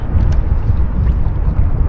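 Strong wind blows across the microphone on a fishing boat on the St. Croix River in Minnesota, a loud steady low rumble with no break.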